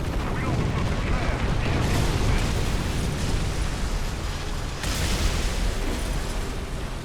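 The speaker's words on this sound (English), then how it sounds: "Those are bombs that landed in front of me." Bombs burst just ahead of a tank in a War Thunder April Fools battle, making loud rumbling blasts that fill the mix in two dense waves, with a voice talking over them.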